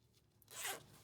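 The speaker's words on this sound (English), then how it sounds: "That's a locking zip there, of course." A locking zipper on the knit cuff of an Alpinestars Monza Sport motorcycle jacket is pulled in one quick, close rasp lasting about half a second, alone in a quiet room.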